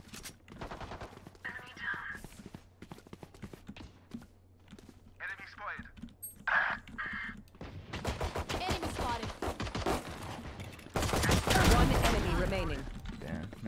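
Shotgun blasts and other gunfire in the video game Valorant, sharp repeated shots among in-game sounds, with a heavier burst of fire near the end.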